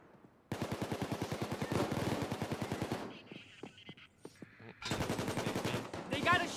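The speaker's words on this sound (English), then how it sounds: "I got auto fucking suppressed handheld shotguns." Rapid full-auto bursts from suppressed handheld shotguns in Payday 2 VR, two long rattling strings of dense, evenly spaced shots separated by a short pause filled with scattered single reports.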